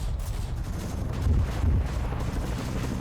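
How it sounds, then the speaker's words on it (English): Deep, rumbling artillery explosions in a Vietnam War video game roll continuously, with heavier thuds swelling midway, like distant artillery pounding without pause. "those explosions from their artillery"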